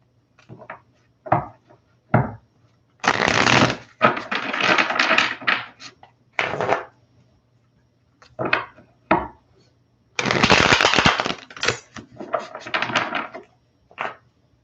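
Bursts of papery riffling and soft slaps as tarot cards are shuffled close by, several separate shuffles with short pauses and taps between them.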